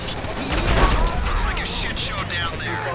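Video game gunfire in GTA Online, heard as a dense burst of overlapping shots and booms with chaotic battle noise, while voices talk over it.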